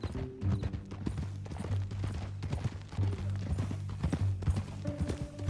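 Horse hooves clip-clop in a steady walking rhythm in the video game Red Dead Redemption 2, fairly close and clear, accompanied by a low sustained musical tone, with no speech.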